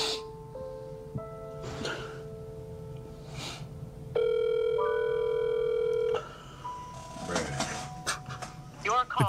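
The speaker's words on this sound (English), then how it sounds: "he reaches for the phone and dials his mom's number." A telephone call to a mother's number goes unanswered: short dialing beeps, then a steady loud ringing tone holds for about two seconds before choppier tones return, with voices and other noise around it.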